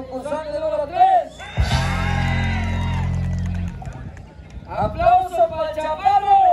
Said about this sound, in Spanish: Aplauso para el concursante número 3.